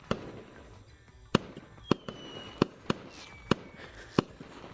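Fireworks pop in a series of about seven sharp, separate bangs at irregular intervals, moderately near, over a quiet background hiss, with faint whistling between blasts.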